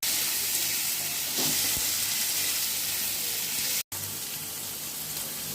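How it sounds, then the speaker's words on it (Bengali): Chopped onion and crushed garlic frying lightly in oil for a Bengali sol fish recipe, giving a steady, close sizzle that runs without pause apart from one brief cut. "পেঁয়াজ আর রসুনটাকে একটু হালকা করে ভেজে নেব"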